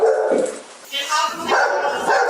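A Shar-Pei mix dog barks and yips repeatedly at close range indoors during a police bodycam visit, with people talking underneath the barking.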